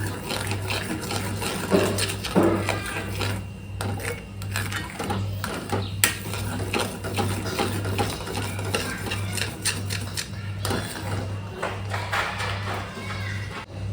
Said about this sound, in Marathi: मंद गॅसवर त्याला हवा असं ढवळायचं